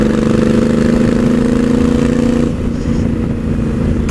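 A loud, steady Honda Africa Twin twin-cylinder motorcycle engine idle rumbles with a low, even throb throughout, dipping slightly partway through before settling back.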